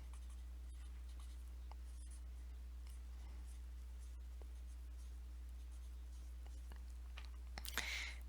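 Pen or pencil scratching on paper while writing out an arithmetic sequence equation by hand, a series of faint, close strokes and scribbles over a steady low hum, with no talking.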